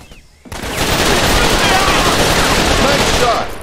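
Dense, loud automatic gunfire in the shooter game Raven Squad erupts after a brief quiet start and continues as a sustained close barrage.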